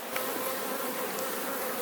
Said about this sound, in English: I have a bee here that's trying to reclaim the honey coming out the end.